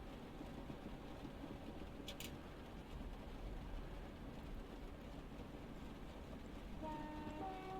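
A Class 375 electric multiple unit in Train Simulator Classic rumbles along the rails with a constant low drone, a brief high click partway through, and rising tonal whine near the end.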